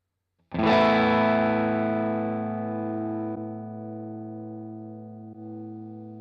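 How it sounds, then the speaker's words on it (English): Electric guitar through a compressor effect on a rotary preset with cab simulation, a single sustained strummed chord ringing out with distortion and swirling modulation, slowly decaying with a couple of faint re-articulations. "Hear the compressor doing its thing there."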